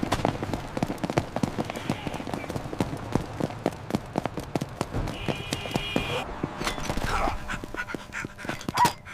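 A dog pants rapidly and rhythmically up close during a chase through city streets, mixed with quick footfalls and clattering, while voices speak in the background.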